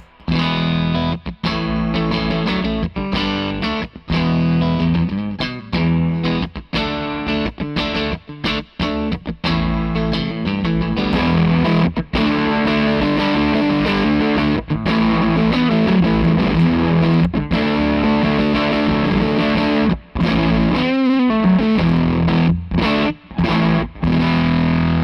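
Electric guitar played through a Hello Sailor Effects Broadside pedal, a dense, heavily distorted rhythm part strummed continuously and loudly with brief choppy gaps between chords.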